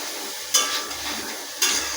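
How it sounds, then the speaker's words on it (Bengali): Diced potatoes frying in oil in a wok, a steady close sizzle broken twice by sharp metallic scrapes of a spatula against the pan. "আলুগুলো ডুমো ডুমো করে কুচিয়ে দিয়ে দিলাম"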